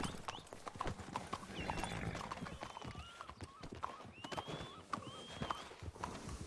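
Horse hooves clip-clop steadily in Red Dead Redemption 2, a repeated trotting rhythm of sharp knocks near at hand, with brief whinny-like tones and faint game ambience behind.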